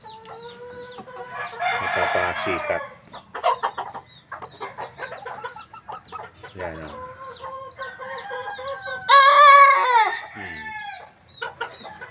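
A four-month-old Sweater Gilmore stag rooster crows several times, loud and close, with a bright crow near the end; someone talks between the calls.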